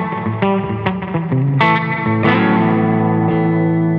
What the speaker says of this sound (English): this is just a really like springy slapback